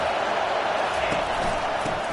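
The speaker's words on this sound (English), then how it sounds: "this crowd trying to help keep them there" A football stadium crowd roars steadily throughout, a dense and continuous wall of noise from a packed stand as the home fans try to keep the opposing offense pinned deep in its own end.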